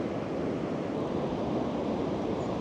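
Ocean waves breaking on a shoreline, a continuous, fairly loud wash of surf with wind noise and no distinct individual crashes, no voices.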